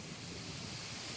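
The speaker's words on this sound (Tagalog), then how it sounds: "Grabe. Ang lakas ng hangin." Strong wind roars in a steady broadband rush, buffeting close to the microphone with no pauses and no voices.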